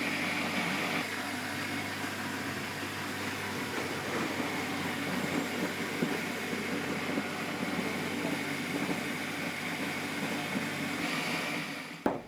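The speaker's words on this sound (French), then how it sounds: "Je les passe au broyeur." An apple crusher machine grinding whole apples into pulp gives off a steady, loud mechanical drone with rough churning texture, running unbroken before cutting off with a sharp click at the end.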